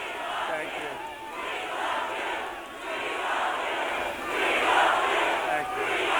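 A large political rally crowd cheering and chanting in a steady roaring swell that rises and falls, loud and continuous with no break.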